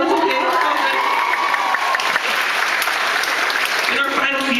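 Graduation audience applause during a valedictorian speech, a dense, loud burst of clapping mixed with crowd cheering and some shouting and talk, sustained throughout the short stretch.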